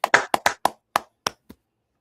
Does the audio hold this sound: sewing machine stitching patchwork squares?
no